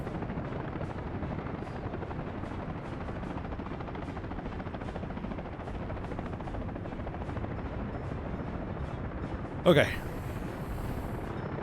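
A helicopter in the city-building game Workers & Resources: Soviet Republic, heard as a steady, loud rotor drone that runs the whole time, with one brief sharper burst near the end and a short spoken word over it.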